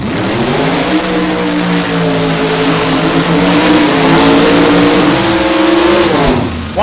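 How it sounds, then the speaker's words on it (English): A drag racing car does a long, loud burnout at Byron Dragway during a Glory Days event, its engine holding a steady high-revving roar for about six seconds before it abruptly cuts off. "Wow, the burnouts do not disappoint."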